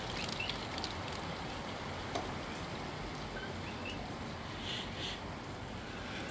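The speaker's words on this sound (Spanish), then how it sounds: "lluvia" Rain falls steadily through Tropical Storm Ernesto in Jayuya, Puerto Rico, a constant, moderately quiet wash of patter and noise with no voices.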